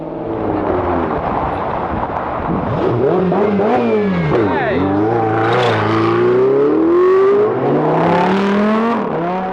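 Supercars drive and rev on Dubai roads, with rising and falling engine tones sweeping past loudly and continuously.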